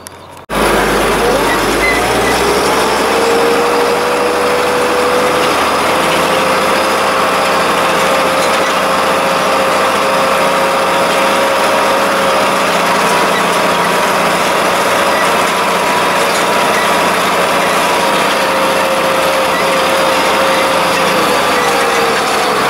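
A tractor engine drones loudly and steadily while cultivating barley stubble in a field, holding an even, continuous pitch from start to finish.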